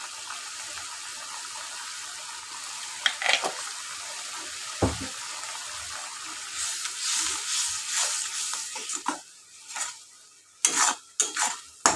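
Meat and potatoes fry in a pan with a constant low sizzle, broken by spatula scrapes and clanks that grow busier and louder toward the end, with no talking.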